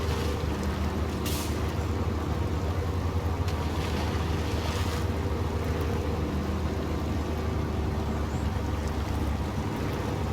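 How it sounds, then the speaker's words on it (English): Truck engine in the video game Snowrunner, a deep, powerful, continuous drone that stays loud and unchanging for the whole stretch, with no talk. "One of my most favourite sounding engines. It just sounds so incredibly powerful."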